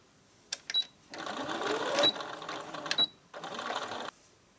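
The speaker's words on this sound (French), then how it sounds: "on va faire une couture de chaque côté jusqu'à la pliure" Sewing machine stitching a seam along the side of a fabric basket, running in two close bursts of rapid whirring needle action separated by brief clicks and pauses.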